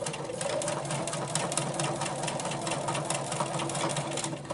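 A sit-down sewing machine doing free motion quilting runs at a steady fast stitching rhythm, a close, even mechanical whir and rapid needle clatter with no talk.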